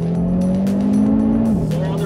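A 2022 Audi RS 3 in performance mode on the Megara circuit, its engine holding a loud, steady drone that rises slightly then drops as it shifts or lifts, close and continuous with faint tire noise.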